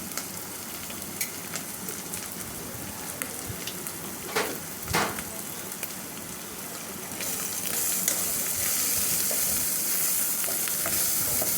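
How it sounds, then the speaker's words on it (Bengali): Malondi fish curry sizzles and fries in a pan while being stirred, with clear scraping strokes around the fourth and fifth seconds and a steady hiss that grows louder near the end. "এখন আমি একটু নাড়াচাড়া দিয়ে দিব, লবণ দিয়ে দিলাম"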